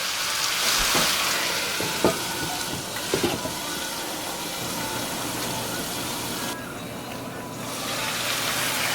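Jamaican curry stewed chicken cooking covered in a pot, heard as a steady, close sizzling hiss with a few faint knocks and some muffled talk in places.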